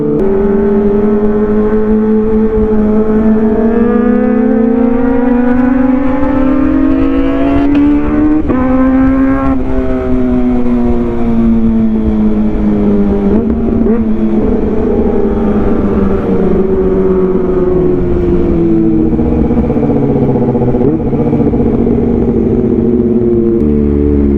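A Kawasaki ZX25R motorcycle with an Arrow exhaust runs loud and close. Its high-pitched engine note rises and falls through gear changes and steady cruising for the whole stretch.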